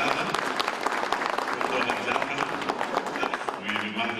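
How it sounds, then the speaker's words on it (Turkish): Steady applause from an audience at a federation general assembly as a mayor is welcomed to the stage, dense clapping at close range with voices mixed in underneath. "Sayın Zekeriya Namso Beyefendi alkışlarla huzurunuza davet ediyorum."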